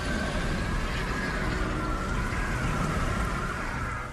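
Steady, heavy rain falls in a dense, continuous hiss that stays loud throughout, with no voices.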